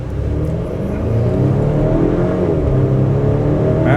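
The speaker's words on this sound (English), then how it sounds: "I want to see how this vehicle gets up to speed from the complete stop" A 2025 Volvo XC40 Ultra compact luxury SUV pulls away from a full stop, its engine note rising steadily and loud for the whole stretch with no talking over it.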